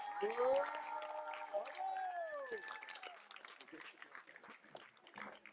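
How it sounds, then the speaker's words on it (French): An outdoor audience applauds a finalist at the Thau en Scène 2025 talent finale in Mèze, a faint patter of clapping mixed with whistles and voices that gradually thins out. "Applaudissez-la encore très fort"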